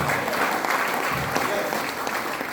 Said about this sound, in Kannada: ಅವ್ರೆಲ್ಲರಿಗೂ ಜೋರ ಚಪ್ಪಾಳೆ ಹಾಕ್ಬೋದಾ?